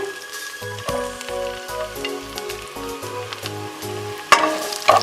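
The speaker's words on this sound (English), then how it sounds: "Saute the mushrooms." Mushrooms sautéing in a pan, a soft steady sizzle running beneath light background music, with a brief louder scrape or clatter near the end.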